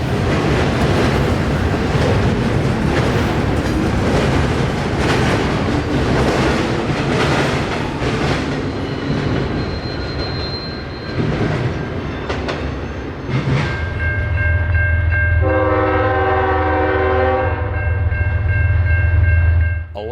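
NS freight train 264 rolls past on the CSX W&A railroad, loud rumbling cars and rail clatter up close, fading into a lower steady rumble with high tonal squealing from the wheels toward the end.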